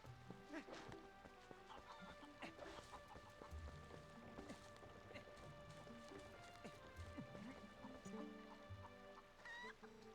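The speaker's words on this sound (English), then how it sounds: "I have a chicken." Chickens clucking in Legend of Zelda: Twilight Princess, busy overlapping clucks and squawks with footstep-like patter and other game sounds, steady and fairly close throughout.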